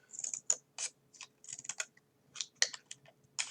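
Scissors cutting bookbinding cover material by hand, a series of close, crisp snipping and slicing strokes in irregular bursts with short pauses between, no talking.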